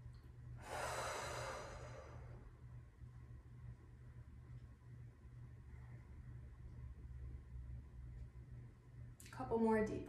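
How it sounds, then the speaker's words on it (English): Slow, deep breathing during a beginner yoga cooldown for runners: a long audible exhale near the start and another breath at the end, faint and close over a quiet low hum. "A couple more deep breaths for me."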